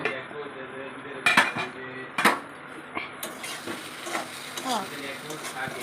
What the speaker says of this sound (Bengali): এখন ঢাকনাটা খুলে দেখি 1 মিনিট তো হলো।